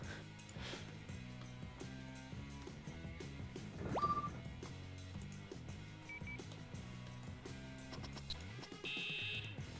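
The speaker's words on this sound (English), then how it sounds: "we have a fire alarm triggered" A fire alarm going off in the Emergency 4 firefighting video game, a faint electronic tone buried under steady looping game music and other interface beeps, with no speech.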